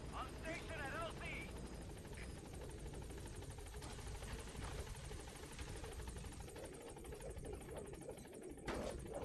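A helicopter in the video game Metal Gear Solid V hovers at a landing zone, its rotor thrum steady and close beneath continuous radio chatter and other voices.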